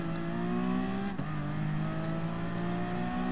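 A race car launches in a GT Sport drag race video game, its engine note climbing steadily through a gear change in a continuous, close roar.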